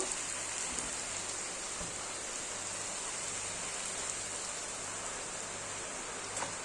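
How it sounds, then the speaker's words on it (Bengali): Water poured steadily into a cooking pot of Bengali vegetable curry with squash and peanuts, a continuous close splashing hiss that runs unbroken throughout with no voice. "এবার আমি জল দিয়ে দেব।"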